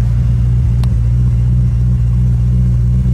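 A supercharged 600 hp BMW M3 with a 6-speed gearbox idles close by with a deep, steady, loud rumble and slight fluctuations, heard alone without speech.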